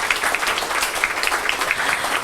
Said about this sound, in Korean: 우리 윤지선 선생님 그리고 신지혜 선생님께 다시 한번 시원하게 박수 부탁드립니다